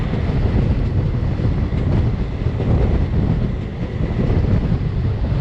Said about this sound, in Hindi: Karnataka express behind WP7 locomotive.